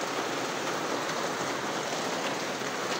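Steady rain falls in a continuous, even hiss at moderate volume, a dense wash of drops with no voices or other sounds over it.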